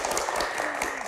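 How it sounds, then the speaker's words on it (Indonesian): Studio audience of university students at a televised legal discussion show claps in a brief burst of dense, even applause, with no speech over it. "Tepuk tangannya mana?"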